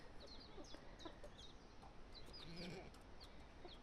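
High, thin chick cheeping repeats in short bursts over a busy farmyard of clucking hens and roosters, the little peeps standing out near and fairly loud against the steady poultry chatter.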